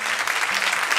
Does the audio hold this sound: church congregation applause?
yes